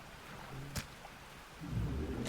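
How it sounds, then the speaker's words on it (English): Rain patters and distant thunder rumbles in the fishing video game Dredge, a soft steady hiss broken by a couple of sharp crackles, with a low roll building near the end; no speech. "Rain."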